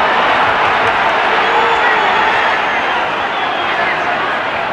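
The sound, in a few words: football crowd cheering at Everton v Walsall FA Cup match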